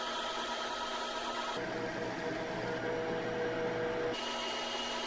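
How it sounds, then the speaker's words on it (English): A metal lathe fitted with an end mill radius cutter runs continuously, giving a loud, steady mechanical whine and hum with a few shifts in tone as the cut changes. "Now I'm using an actual end mill radius cutter in the lathe."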